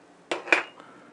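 A plastic paint dish for model brushes handled on a tabletop, giving two short close knocks and clatters, the second louder and with a faint ring, followed by a soft tap, with no talk.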